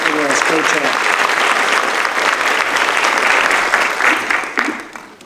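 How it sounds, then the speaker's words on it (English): Steady audience applause at a high school scholarship awards night, dense and sustained across the whole stretch before thinning near the end, with speech faintly mixed in. "I would like to give her a round of applause"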